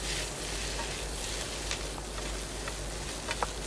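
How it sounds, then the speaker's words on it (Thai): Pad thai with shrimp and bean sprouts is stir-fried in a pan, producing a continuous soft sizzle with faint scrapes and light clinks of the utensil as it is tossed. "ผัดกลับไปกลับมานะคะ ไม่ต้องผัดนานค่ะ"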